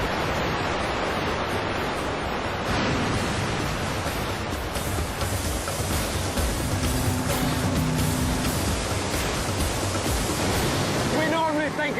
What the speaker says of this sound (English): The energy of the tide is phenomenal. It can roll inland for tens of kilometres.